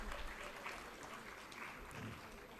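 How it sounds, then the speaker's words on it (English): Applause from an audience at a national award felicitation ceremony for UPSC rank holders, continuous clapping throughout, faint and distant with a roomy, muffled quality. "A big round of applause."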